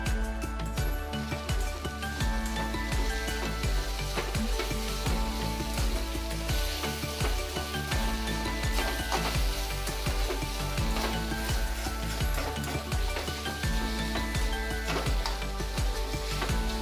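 Potato pieces fry in hot oil in a pan, giving a steady, dense sizzle that holds at an even level throughout while music plays over it.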